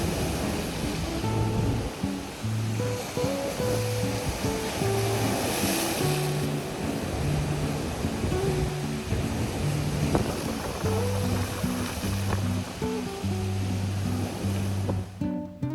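Steady rushing surf from sea waves on Passetto beach in Ancona, Italy, fills the background, with a simple melodic tune playing over it throughout.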